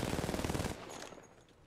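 Rapid automatic gunfire from a weapon in Apex Legends, a burst of closely spaced shots lasting under a second, then a fading echo and tail.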